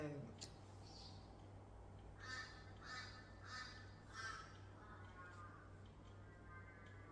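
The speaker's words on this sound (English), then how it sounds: "you hear the crow talking?" A crow caws repeatedly at a steady pace, several harsh calls spaced about a second apart, moderately distant over a constant low hum and background noise.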